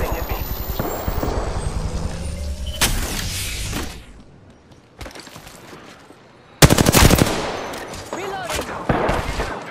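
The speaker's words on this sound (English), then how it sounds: "Taking fire! I am down, but alive. Recharging enemies are shooting at me." Rapid automatic gunfire from enemies in the shooter game Apex Legends, loud bursts of shots that drop away briefly and then return in a sharp barrage, mixed with game effects.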